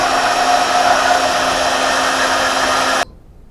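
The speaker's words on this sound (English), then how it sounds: "I started cutting some 5160 on my bandsaw, cutting these pieces in half to make some tines for our Broadfork." A bandsaw cuts 5160 steel bar stock in half, a steady loud whining blade drone with a constant tonal hum that runs unbroken for about three seconds before stopping abruptly.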